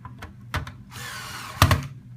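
A power drill drives screws to anchor a modem board to its housing: several short bursts, then a longer steady whir, then a sharp final burst, close and fairly loud.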